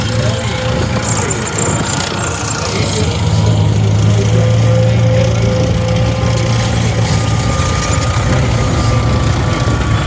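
A Swiss Army Pz 61 tank rolls past during a Cold War tanks march at Bovington Tankfest 2022, its engine a loud steady droning roar that swells midway, with a narrator talking over it.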